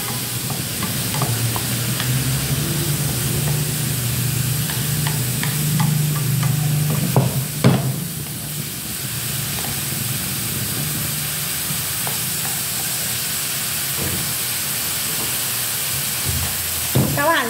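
Taro stems and pork stir-frying in a pan give off a steady, close sizzle, with scraping stirring strokes and occasional clatter.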